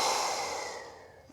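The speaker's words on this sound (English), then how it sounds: "breathing deeply through the nostrils. Exhale." A single deep exhale of breath during a guided breathing exercise, a long, soft airy rush that fades gradually over about a second, close and alone with no talking.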